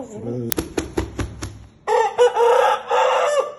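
A nearby rooster crows loudly in a long, strained call, preceded by clucking and a few sharp knocks, with a person speaking briefly at the start.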